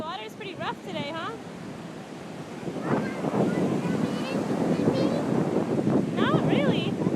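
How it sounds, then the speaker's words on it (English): Rough surf washes steadily along a beach under gusting wind, a broad continuous rush close by, while people talk over it and a few bird chirps break through. "Katie, the water's pretty rough today, huh?"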